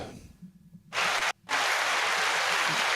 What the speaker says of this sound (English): At least I got that canned applause, Jenny.